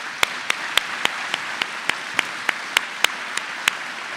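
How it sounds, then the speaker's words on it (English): A graduation audience at a technical institute applauds the faculty, with steady crowd clapping and a run of sharp, evenly spaced claps standing out near the microphone for about four seconds. "Can we give them a round of applause?"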